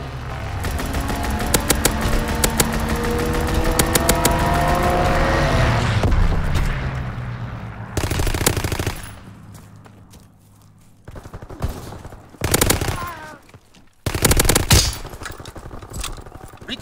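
An aircraft strafing run in Call of Duty WWII, a long loud roar of machine gun fire with the plane's engine sweeping past, then a pause and several heavy bursts of gunfire and blasts, close and powerful.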